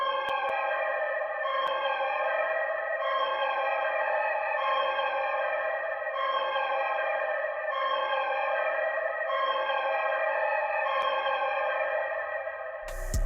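A dark, spooky FL Studio sample pattern repeats in even phrases, thick with delay, reverb and EQ shaping, its echoing tones sustained and steady at moderate volume.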